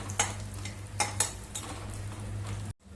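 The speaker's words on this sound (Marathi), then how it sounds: "गॅस बारीक करून तुपावरती आता चांगला आपण मिनिटभर परतवून घेऊया." Cashews, almonds and chopped raisins being stirred in ghee over low heat, a soft continuous sizzle broken by a few sharp spoon scrapes against the pan, ending in a brief cut to silence.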